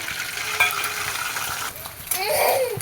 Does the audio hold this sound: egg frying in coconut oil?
yes